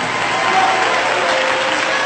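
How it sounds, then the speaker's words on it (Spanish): A church congregation gives loud, dense applause for Jesus Christ, a steady wash of many hands clapping with no pauses throughout. "Dale un aplauso a Jesucristo como que fuera el último aplauso de tu vida."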